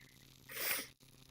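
A single sneeze bursts out nearby, a sharp rushing blast that swells and cuts off abruptly against a low steady hum.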